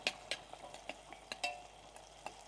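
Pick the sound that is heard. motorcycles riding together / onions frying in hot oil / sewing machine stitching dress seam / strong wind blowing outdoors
onions frying in hot oil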